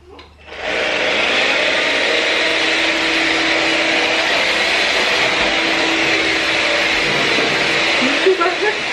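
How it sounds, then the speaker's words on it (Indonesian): A household vacuum cleaner switches on to soothe a baby at home while empek-empek is being made. It quickly builds into a loud, steady whooshing drone that runs unbroken, close by, to the end. "kita nyalain lagi vacuum cleanernya."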